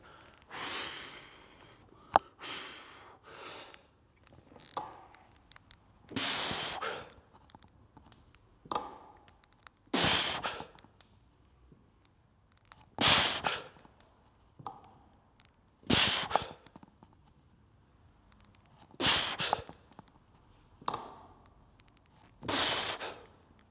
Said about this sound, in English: I kind of have the music off deliberately so that you can hear my breathing.